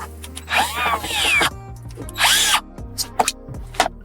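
A power drill drives screws into a DIY ultralight thumb box, whining in two loud, close bursts of about a second each, followed by shorter clicks and brief revs of the motor.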